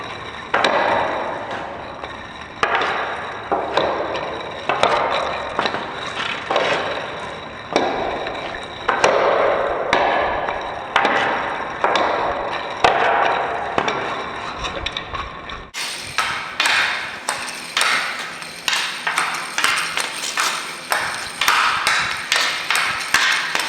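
An ice hockey stick works a puck on a Fast Hands stickhandling trainer in a fast, steady run of hard clacks and taps for over twenty seconds, close and alone without talk.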